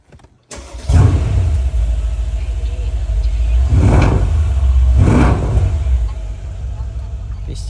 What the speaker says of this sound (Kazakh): Дауысын естіп көреміз ана машинаның.